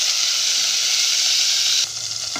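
Garlic, onion and tomato sauté loudly in a hot pan for a Filipino ginisa, giving a dense, steady sizzle that drops abruptly to a quieter hiss near the end.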